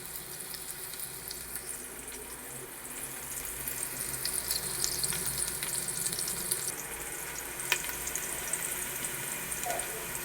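Onion sautés in hot oil in a pan for coriander coconut rice, a steady close sizzle that grows slightly louder midway, with occasional light stirring clicks and no voices.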